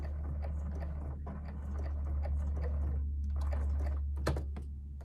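A sewing machine back tacks through batik canvas on a jacket, a quiet steady motor hum with soft stitching clicks and a brief thump near the end.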